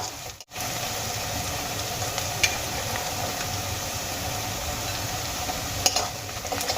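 Onion paste hitting already-fried onions in a hot pan for a brinjal and tamarind dish gives a steady broadband sizzle, with a brief dip near the start and a couple of light utensil clicks, no voices.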